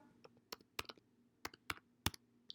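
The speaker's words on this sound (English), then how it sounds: "we'll go ahead and type in VLOOKUP" Keystrokes on a computer keyboard as a spreadsheet formula is typed, a sparse run of crisp clicks in small bursts, close and fairly quiet, with no talking.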